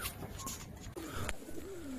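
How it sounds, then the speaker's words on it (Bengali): Pigeons coo on an open rooftop at midday, a soft low murmur running through the whole stretch with a couple of gliding call tones; no voices. "টোটাল পায়রা আমার খোলা আছে দেখতে পাচ্ছ পেছনে"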